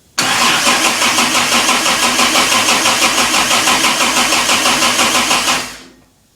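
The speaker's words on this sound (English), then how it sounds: "we're ready to start cranking, and here we go. This is with the new high torque unit." A new high torque geared starter cranks the rebuilt 4.2 litre XK engine of a Jaguar E-Type. The cold engine turns over loudly and rhythmically for about five seconds with an even, rapid chug, then stops without firing.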